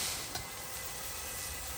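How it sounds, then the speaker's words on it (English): Garlic, ginger and scallions sizzle steadily in hot oil in a wok, a continuous close frying hiss with a brief stir near the start. "Let's go ahead and add our scallions."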